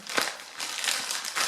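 A plastic bag from a bug out bag kit crinkles and rustles up close in several bursts, with no talk over it.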